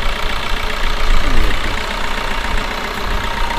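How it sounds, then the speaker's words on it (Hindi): A 2018 Maruti Vitara Brezza ZDi diesel engine idles close up, with a steady, dense rumble and a mild swell just past the first second. "ये देखिए ये इंजन आवाज़ अच्छी बड़ी है,"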